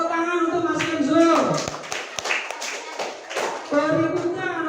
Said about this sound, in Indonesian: Tepuk tangan untuk Mas Kenzo